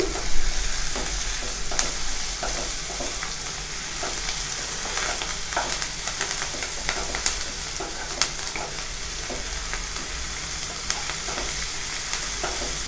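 Onions frying in a pan with salt and green chilli while being stirred: a steady, close sizzle with repeated scraping strokes of the spoon throughout, no voices.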